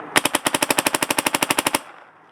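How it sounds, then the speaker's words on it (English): A Pooty clone paintball marker with a spring mod and GT bolt fires a rapid string of about eighteen clearing shots, a steady fast pop-pop rhythm, loud and close with no talking. "Always shoot a couple of clearing shots."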